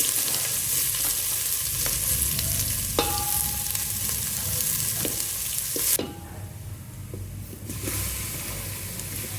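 Mustard seeds, curry leaves and onion fry in hot oil in a pot on a gas stove, a steady close sizzle with occasional stirring clicks and scrapes, quieting abruptly partway through.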